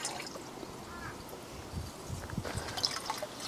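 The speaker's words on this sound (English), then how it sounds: "We can then pour that in to our container," Liquid nutrient solution for a hydroponic salad table is poured into a container, giving soft irregular splashes and trickling gurgles that build toward the end, quiet and close with no talking.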